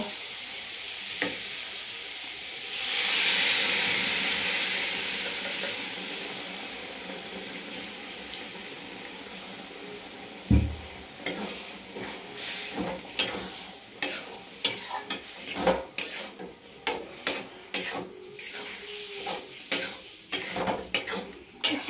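Boiled lentils go into a pan of fried banana flower: a burst of sizzling hiss early on, then a steady quieter fry with repeated clanks and scrapes of a spoon stirring against the pan.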